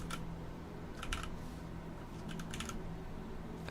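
A computer keyboard clacks softly in short clusters of typing while coding HTML and CSS, with keystrokes in small bursts over a steady background hum and no speech.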